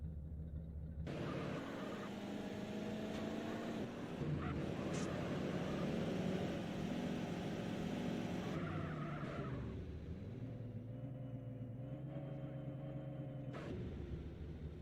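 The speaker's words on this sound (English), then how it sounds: "let's get in and test the top speed of this car" A Rolls-Royce in GTA San Andreas drives at top speed, its steady engine roar and road rumble sustained for about fifteen seconds with shifting pitch and brief tire-squeal-like bursts.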